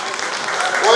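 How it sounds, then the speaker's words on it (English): Audience applause at a Yoruba Day 2018 cultural celebration in Melbourne, Australia, a steady broad clatter of many hands that swells louder toward the end. "Please give them a round of applause for Adini."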